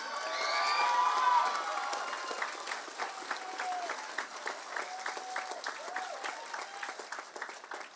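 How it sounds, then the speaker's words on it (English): Applause at a high school graduation ceremony, a steady wash of clapping from a crowd, somewhat distant, with a few faint cheers early on that soon thin out into scattered claps. "let's give a warm welcome and a round of applause to Finley McIntyre"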